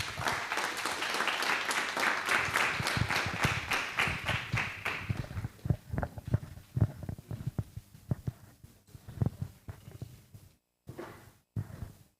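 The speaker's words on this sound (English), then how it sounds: "So round of applause to Cleola." A tech meetup audience applauds a presenter. The clapping is steady and moderately loud, then thins to a handful of scattered single claps with short silent gaps.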